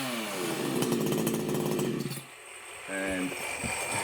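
Husqvarna G366 chainsaw pulled into life and revving, a loud, close two-stroke snarl that dips briefly before picking up again into a steady high idle.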